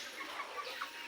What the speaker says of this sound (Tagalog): Ayan po ang aking mga pangsabong na manok.